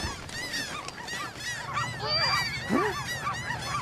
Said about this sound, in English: Bird attack! Bird war!